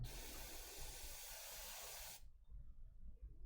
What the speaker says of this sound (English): Setting some airbrushing.